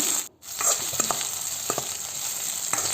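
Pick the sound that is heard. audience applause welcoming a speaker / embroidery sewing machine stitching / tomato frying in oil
tomato frying in oil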